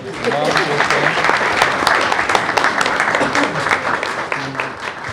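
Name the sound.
audience applause at school board meeting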